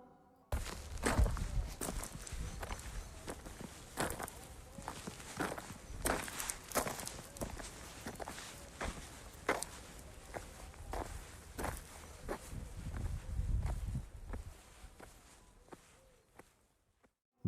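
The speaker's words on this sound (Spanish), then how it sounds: "Durante casi una hora, Brian Swanson escuchó a su hijo caminar." A person walks steadily at night, each footstep a close, crisp impact in a regular series lasting over fifteen seconds, with rustling between steps and no talking.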